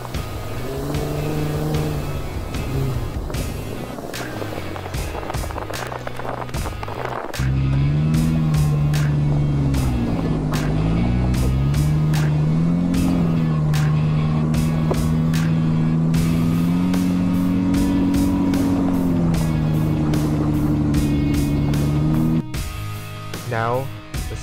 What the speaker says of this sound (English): The Varex muffler technology allows you to fine-tune your Jeep's exhaust note.